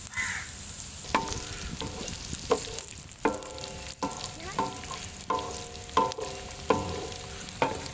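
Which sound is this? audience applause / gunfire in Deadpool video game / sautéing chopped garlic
sautéing chopped garlic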